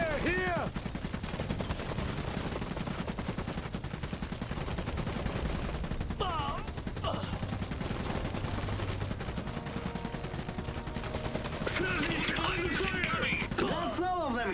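Sustained gunfire from the Iron Harvest real-time strategy game, dense bursts of shots running through the whole clip under steady battle noise, with in-game voice callouts heard over it.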